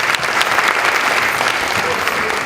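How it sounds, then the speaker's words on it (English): Audience members at a symposium reviewing Ghana's 2012 election petition judgment applaud panelists with dense, loud, close clapping that holds steady throughout. "Shall I please give them a round of applause?"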